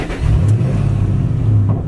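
Loud, close Ford Mustang GT V8 engine revving steadily with a Muffled Elite exhaust, a continuous low rumble with no talk.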